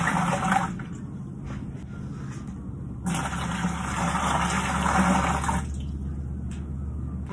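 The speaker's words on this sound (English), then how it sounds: "I'm just gonna put 2 full quart jars of hot water into the bottom of this bucket." Hot water pours steadily from two quart jars into the bottom of a plastic winemaking fermenter bucket, a continuous close gushing broken by a brief pause midway, with no talking.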